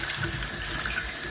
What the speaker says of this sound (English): And the final rinse.